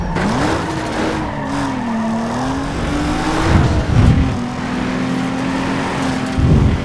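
Racing car engines in Need for Speed Underground 2 hold a loud, steady droning whine with shifting pitch, broken by bursts of tire squeal and skidding as the cars slide through corners.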